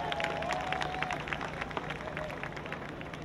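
An audience at a 2017 event applauding, a continuous mid-distance patter of many hands clapping with some crowd murmur underneath.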